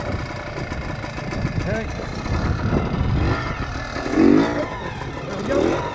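A 1976 Kawasaki KT250 motorcycle engine runs in a steady idle with a couple of swelling revs, heard up close beneath a brief word of speech.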